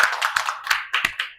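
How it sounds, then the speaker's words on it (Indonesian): Group hand-clapping in a classroom microteaching session, a run of sharp claps with uneven rhythm, fairly close and moderately loud, with no talk over it. "Biar saya tepukan tepuk tangan untuk kita semua ya."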